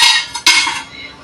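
A metal ring is set down inside a pot for preheating while baking a cake, giving a short bright clink with a second clatter just before the half-second mark, then a fading ring.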